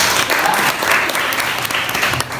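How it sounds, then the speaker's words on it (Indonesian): A classroom group claps together briefly during a geography lesson, a short burst of dense, fairly close applause. "Oke, tepuk tangan semuanya."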